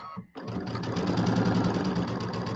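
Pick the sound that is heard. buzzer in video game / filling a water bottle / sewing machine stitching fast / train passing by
sewing machine stitching fast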